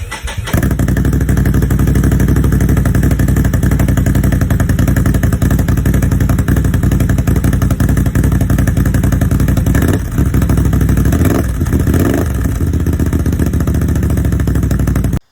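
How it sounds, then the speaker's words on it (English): A loud motorcycle-like 2022 Can-Am Outlander 850 XMR ATV engine with a throaty aftermarket exhaust idles and rumbles steadily up close, with a few brief revs near the end. "I didn't want it to be too obnoxiously loud, just a little bit louder than factory."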